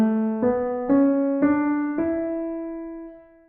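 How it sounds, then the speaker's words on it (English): An E Dorian scale rises note by note as five clear, evenly spaced tones, the last one ringing out and fading alone. "The Dorian mode, which sounds like this,"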